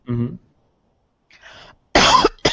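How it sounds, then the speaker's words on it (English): A few sharp coughs in separate bursts, close to the listener, with a quieter rough throat sound between them. "I'm sorry for coughing."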